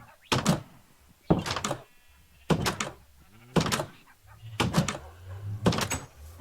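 A house door in Minecraft opens and shuts again and again, making five sharp wooden clacks spaced about a second apart. A faint animal bleat sounds between them.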